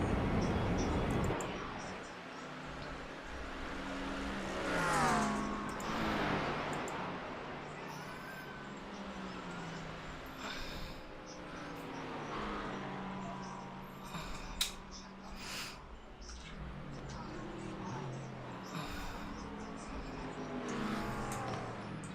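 GT3 race cars climbing the mountain section at Bathurst, engines droning and shifting pitch as they accelerate, with a commentator talking over the steady motor noise throughout.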